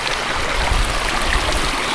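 A small mountain stream on Moel Famau rushes and gurgles in a steady, close, fairly loud wash, unbroken and with no voices.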